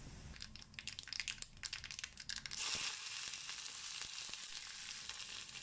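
Sliced onion, curry leaves and green chili hit hot oil with popped mustard seeds for sambar, giving a loud crackling burst that settles into a steady, close sizzle.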